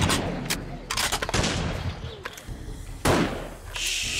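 Gunfire in the video game 7 Days to Die, several loud sharp shots in an irregular burst, followed by a lone heavy report and some fainter background game noise.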